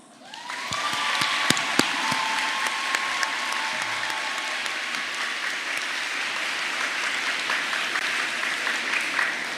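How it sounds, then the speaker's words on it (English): Warm, sustained applause from a large crowd at the Lindenwold High School 2023 graduation ceremony as the graduating candidates are welcomed, with scattered cheers and whoops, steady and full for the whole stretch. "please join me in welcoming our graduating candidates with a warm round of applause"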